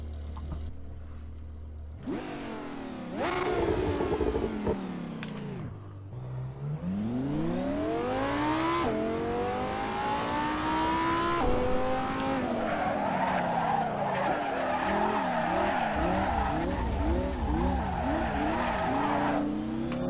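A Lamborghini Gallardo Superleggera screams around an Assetto Corsa track, its engine rising and falling through repeated gear changes while tires squeal and skid, loud and continuous with a wavering pitch near the end.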